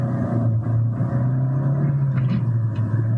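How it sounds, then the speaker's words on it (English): A Renault Megane driven in third gear under a bit of power, giving a continuous low engine rumble and road drone that stays fairly even and close throughout, with no voices. "when I put it into third gear, just listen to the sound it makes"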